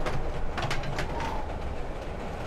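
In the horror video game Layers of Fear: Inheritance, a train rushes past in a short, close, rumbling burst with rhythmic clacks that fades into a lower roar.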